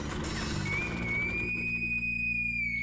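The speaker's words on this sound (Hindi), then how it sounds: "और जब मैं सीटी बजा रहा था वो भी सुनाई नहीं दिया?" A police inspector blows a whistle on a street, giving one long, steady, high-pitched whistle that holds for about two seconds over a low background hum.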